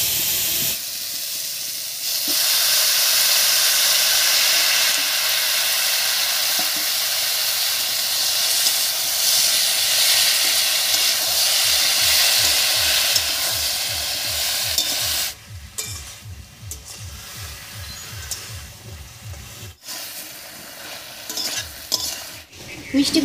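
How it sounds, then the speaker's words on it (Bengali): Chopped pumpkin stems fry in a pan after salt and turmeric, a loud continuous hiss and sizzle for about fifteen seconds that then drops to quieter bubbling with scattered stirring scrapes. "মিষ্টি কুমড়োর ডাঁটা দিয়েও বেশ কিছুক্ষণ নাড়িয়ে নিয়েছি"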